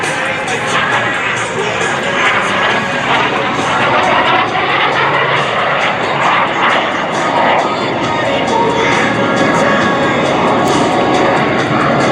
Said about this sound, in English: Tom flies the mini jet out front.